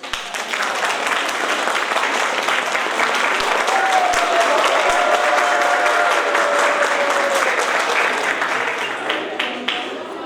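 Schoolchildren applaud at a Saint Sava school celebration in Lapovo, a loud, dense, sustained clapping from a crowd of kids that fades slightly at the end, with a brief tonal sound partway through.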